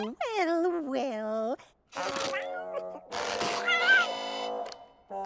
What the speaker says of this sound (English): Would you like to meet Mr. Cat?